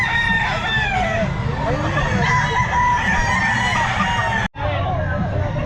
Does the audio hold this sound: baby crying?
no